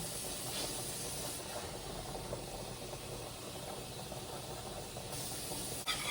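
Lobster and crab legs fry in a pan with a steady sizzling hiss that stays even throughout, ending with a small clink near the end.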